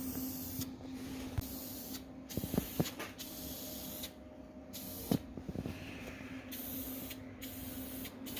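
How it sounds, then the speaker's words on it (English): A spray paint can hisses in repeated bursts of steady, close spraying with brief gaps between them and a few light knocks, set outdoors while painting a welded kid's kart. "As much as I like the little spray painting, I definitely had to give the can up"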